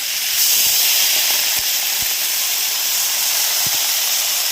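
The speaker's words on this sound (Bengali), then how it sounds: "এবার দেবো জল" Water poured into a hot pan of winter vegetables and small live fish for a curry sets off a loud, steady hiss of steam that runs without a break, close by and alone.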